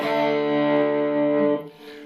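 A Stratocaster electric guitar played through a compressor into a Fender Vibrolux amp set low rings out as one sustained, slightly gritty chord, held evenly before cutting off abruptly.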